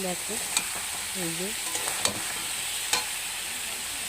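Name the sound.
green banana and potato sautéing in pan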